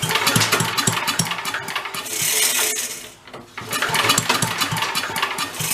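An abandoned vintage Mite-e-Lite generator engine cranks and catches past its decompression, firing in rapid close-up mechanical chuffs and clatter that briefly fade and dip before picking back up into steady running.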